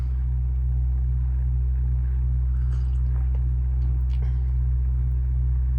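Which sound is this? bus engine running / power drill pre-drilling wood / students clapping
bus engine running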